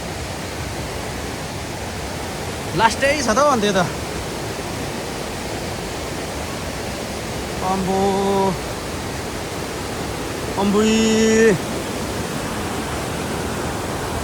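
A village stream swollen by monsoon rain rushes steadily, a constant loud roar of flowing water, with a few brief voices speaking over it.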